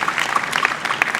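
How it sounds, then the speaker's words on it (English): Awards ceremony audience at the Serena Hotel clapping, a brisk burst of applause from a crowd that sounds fairly close and lively for a short moment. "Let's give him a hand clap."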